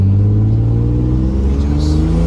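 A manual-transmission car pulling away from a stop and gaining speed, a loud, close engine rumble with steady low tones that shift slightly as it accelerates.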